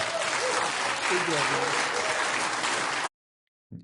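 Audience applause during a live comedy talk show, a broad, steady burst of clapping that fills the room for about three seconds, then cuts to silence before a brief sound at the end.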